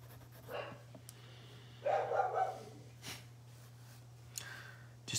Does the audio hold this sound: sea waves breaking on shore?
no